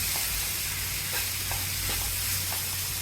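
A spoon stirs crushed peanuts into tandulsa greens in a hot pan, setting off a continuous hiss of frying. A few faint scraping strokes sound over a low background hum, and no one speaks.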